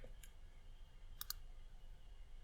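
Two quick, sharp computer mouse clicks close together, made while working on a Tableau dashboard on a computer, with an earlier faint tick; quiet room, no talking.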